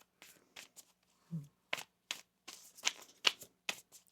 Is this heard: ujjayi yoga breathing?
no